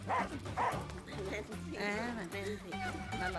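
A dog barks and yips in short bursts at close range, mixed in under steady talking throughout.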